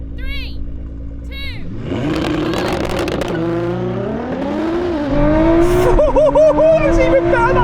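Ferrari SF90 and Nissan GTR launching side by side in a drag race, loud engine roar rising steadily in pitch as both cars accelerate, with excited voices talking and shouting over it.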